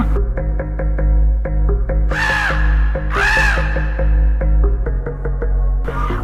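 A crow caws loudly twice, harsh and close, in a children's cartoon, over steady rhythmic background music with plucked notes and a low hum.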